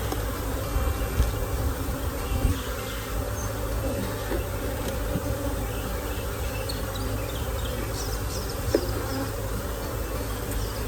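Honeybees hum at an open hive in a dense, steady drone that stays loud and close throughout, with a few individual buzzes flying past.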